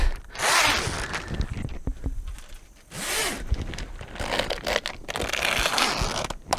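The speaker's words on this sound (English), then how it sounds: "Go ahead and set your zippers." Zippers on an insect screen door of an adventure van are pulled closed, several long rasping zips in bursts with scraping fabric and handling noises between them, close and loud.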